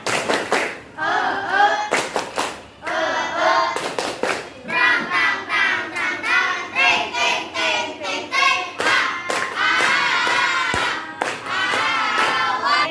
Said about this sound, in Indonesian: kita tepuk semangat dulu ya semuanya